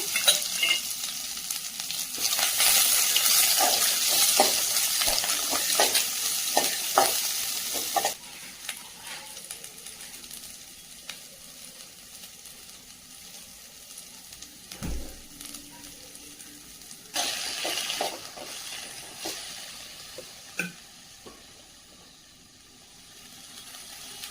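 Small shallots fry in hot oil in a pan, giving a steady bright sizzle while a spoon scrapes and clinks as they are stirred. The sizzle fades partway, then swells again.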